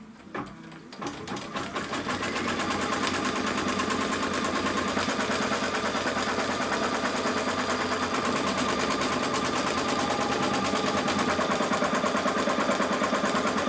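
An embroidery sewing machine stitches a fabric tack-down on a quilt block, a fast, even, mechanical whirring rattle that starts up and then runs steadily and loudly up close, with no talking.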